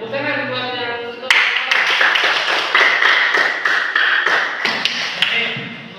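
Classroom applause in an Indonesian civics lesson: a burst of many hands clapping starts abruptly and continues steadily and fairly loud, with a few sharper claps standing out, after a brief stretch of talk at the start.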